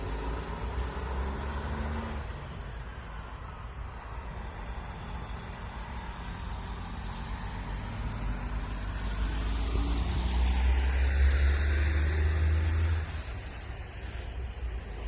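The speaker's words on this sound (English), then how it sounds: "I do apologise for the traffic." Cars and trucks rumble steadily past on a country road at midday, a continuous broadband roar that swells as a heavy vehicle nears and passes close, with no talk over it.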